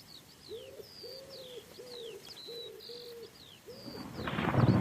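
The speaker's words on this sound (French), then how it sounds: "Le pigeon ramier est une espèce qui niche dans les arbres, en zone forestière." A wood pigeon coos in a steady repeated phrase of about six soft notes, fairly near, with small birds chirping and tweeting throughout and a rising rush of noise at the end.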